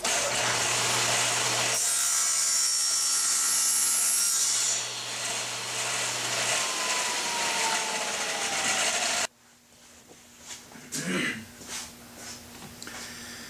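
A table saw trims the end of a joined wooden guitar back square, a loud steady whine with a cutting rasp for several seconds that cuts off abruptly, followed by quieter shop handling noises.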